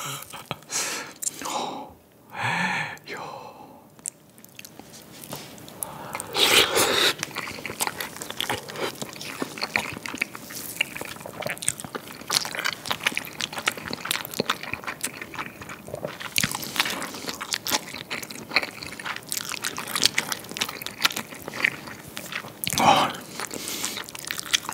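Close-up biting and chewing on whole soy sauce marinated raw crab, with wet crunches of shell and squishy mouth sounds repeating steadily, plus a few soft breaths between bites.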